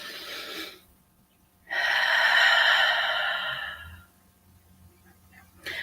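Deep, slow breathing during a morning prayer session: a soft exhale, then a long, loud, close breath lasting a couple of seconds, followed by quiet.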